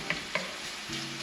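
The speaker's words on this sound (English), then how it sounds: "Let's let this bacon cook." Bacon cooking in a pan for shrimp and cheesy cheddar grits, a steady close sizzle and crackle with two brief clinks or stirring taps early on, no talking.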